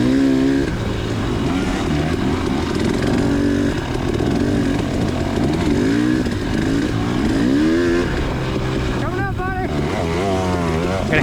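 A race car engine accelerating hard up a big hill in third gear on a high school race track, loud and continuous at high revs with rising and falling pitch sweeps, close to the microphone.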